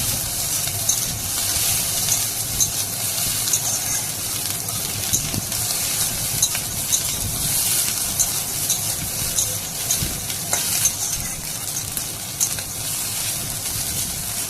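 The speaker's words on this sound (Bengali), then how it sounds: "এখন ম্যাগির মশলা দিয়ে ভালোভাবে আবারও নেড়ে চেড়ে নেব।" Leftover-rice fried rice is tossed with Maggi masala in a pan, producing a steady hissing sizzle with soft stirring scrapes and occasional light clinks, close and continuous.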